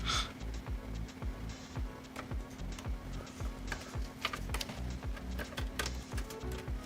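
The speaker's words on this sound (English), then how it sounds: "10 keys are just fun to type on. You can type everything out." Rapid, steady clicking of a mechanical computer keyboard with ten keys, close and fairly quiet, with a constant low hum beneath and no talk.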